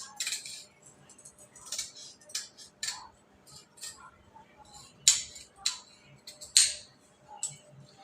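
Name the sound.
scissors cutting blouse fabric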